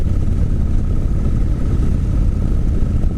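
A Victory Hammer motorcycle with a fuel-injected 106 cubic inch engine, six-speed gearbox and belt drive runs at a steady throb, loud and close. The engine rumbles continuously without pauses, and no voices are heard.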